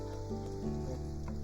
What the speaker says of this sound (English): we're just going to be sauteing some onions